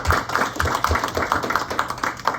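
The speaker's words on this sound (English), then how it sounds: "let's give a nice round of applause for Tom Dorset" A small audience gives a round of applause for a speaker at a Kiwanis forum, steady overlapping claps at close range with no talking over them.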